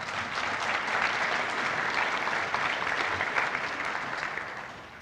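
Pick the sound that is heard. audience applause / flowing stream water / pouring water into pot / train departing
audience applause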